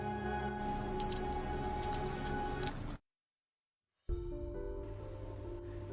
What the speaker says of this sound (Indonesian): Sohee terus saja membunyikan lonceng itu.